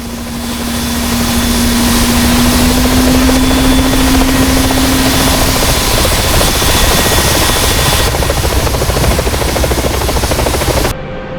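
Turbine engine of an AH-64D Apache helicopter spooling up during start in the DCS flight simulator, a steady loud whine and broadband roar with a rising tone that fades, continuous to the end with no talk.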